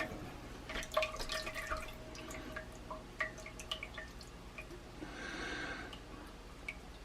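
Used frying oil trickles into a cast iron pan, a quiet run of scattered drips and small splashes with a soft pouring swell near the end, close up and without talk.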